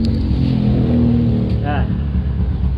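A Suzuki Raider J 115 motorcycle engine idles steadily and loudly up close after starting, a low even rumble under someone talking.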